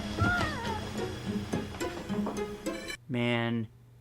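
A cat lets out one loud, harmonic meow lasting under a second near the end, following a stretch of busy overlapping voices and clattering sounds in the 1989 film Elves.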